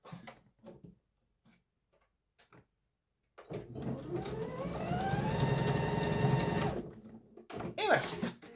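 A sewing machine runs a steady, close stitching burst of a few seconds, sewing a retaining seam along a folded pleat, with a voice talking briefly before and after.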